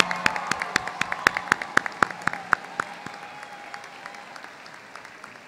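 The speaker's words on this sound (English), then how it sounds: "Let's give God a round of applause for all that God has done." At a university commencement ceremony, a sparse round of applause rises with a few distinct, near claps standing out over softer clapping from the crowd, then fades gradually.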